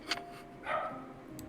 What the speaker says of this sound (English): Get your fucking dog off the radio.